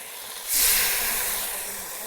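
Water poured onto dry spices frying in a pan for a vegetarian curry sets off a sudden loud, sustained hiss that gradually softens as the sizzling settles.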